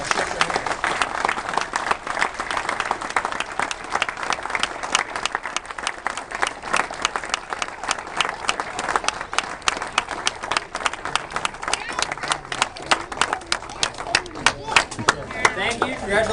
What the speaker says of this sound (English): give them one more round of applause and then get up and shake their hands.